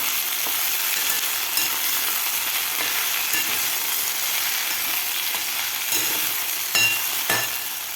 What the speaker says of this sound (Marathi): आता आपण परत एकदा याला मिक्स करून घेऊया व्यवस्थित त्याला हलवून घ्यायचं आहे आपल्याला